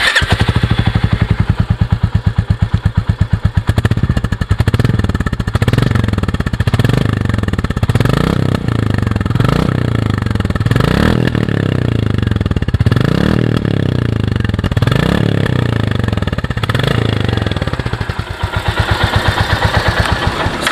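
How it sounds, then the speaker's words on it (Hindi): A 2022 Royal Enfield Classic 350 with stock exhaust idles with a steady thumping exhaust beat, revved repeatedly in rhythmic pulses that rise and fall, close and loud throughout. "अब लास्ट में इसका आपको एग्जॉस्ट का नोट सुनाते हैं जो इसका स्टॉक एग्जॉस्ट लगा हुआ है।"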